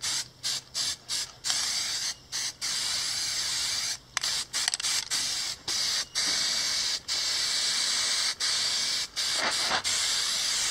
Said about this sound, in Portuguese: Foi os dois spray. Só que um é cinza. E outro é prata.